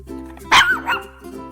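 A dog lets out a single sharp, high bark or yip partway through, followed by a softer whining tail, over a steady low hum.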